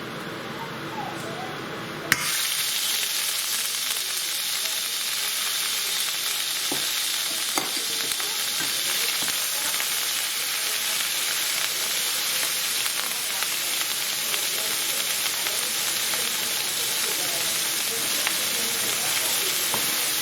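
Minced ginger and garlic paste dropped into hot oil for a British Indian restaurant style chicken jalfrazi, bursting into a loud, steady sizzle that continues throughout with occasional stirring scrapes and a voice talking over it.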